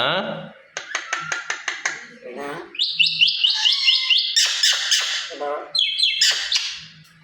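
A pet myna bird chatters in loud, close, rapid squawks and whistly mimicked speech-like calls, saying its own name, with a person's voice mixed in.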